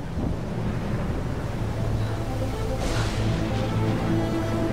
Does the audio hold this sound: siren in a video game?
no